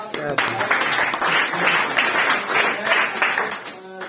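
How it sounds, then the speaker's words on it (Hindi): A seminar audience at a wellness training session breaks into dense, sustained applause, steady and fairly close, lasting nearly four seconds before tapering off. "जोरदार तालियां"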